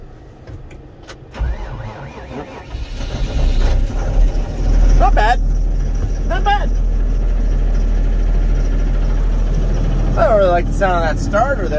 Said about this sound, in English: Sound of that starter there, obviously